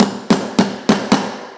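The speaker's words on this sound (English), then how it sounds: "hammer that into place" Four sharp hammer strikes driving a steel pinch dog into a wood joint, evenly spaced about a third of a second apart, close and loud with short ringing decay.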